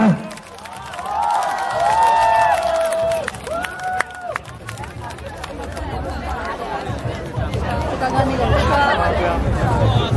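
Festival crowd at a Shanghai outdoor music festival applauding and cheering, a loud continuous wash of claps, shouts and chatter, with a voice speaking over the crowd near the start.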